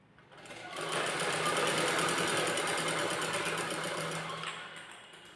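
A sewing machine stitches a net fabric blouse, its motor running in a steady, close whirring buzz that starts after a brief pause, holds evenly, and eases off near the end.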